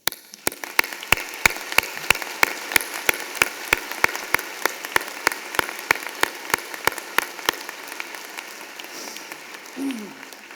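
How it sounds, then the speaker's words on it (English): At a university convocation honouring the 2017 graduates, slow, evenly spaced claps ring out one after another for several seconds before trailing off. They sound like a single pair of hands rather than a full crowd. "Let us give them a warm sound of applause"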